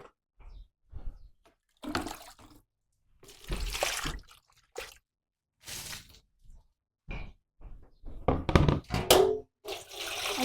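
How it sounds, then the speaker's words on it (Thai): Water is poured in short, uneven splashing bursts while pickled mustard greens are being made, close by and fairly loud, with quiet gaps between pours. "สิไปเทน้ำกัน"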